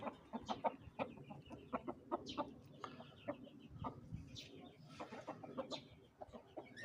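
A rooster at a farm or yard clucks in a string of short, uneven calls, mixed with other fowl noises and faint background chatter.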